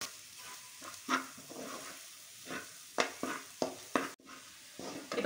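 Garlic frying in a pan for Tamil-style garlic rice gives a soft, quiet sizzle broken by intermittent stirring scrapes and light clinks of a utensil against the pan, close up and without speech.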